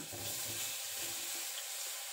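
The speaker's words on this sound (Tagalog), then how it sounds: "Try na natin yung banana" Steady close sizzling and crackling of banana frying in hot oil in a sticky pan, continuous with no talking.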